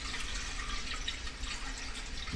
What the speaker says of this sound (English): I'm going to add some water here.